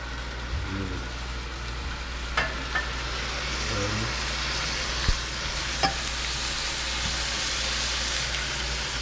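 Colossal shrimp from Walmart hitting a hot pan while steak and shrimp cook for a family, setting off a steady close sizzle and fry with a few clinks and taps of utensils, no talk over it.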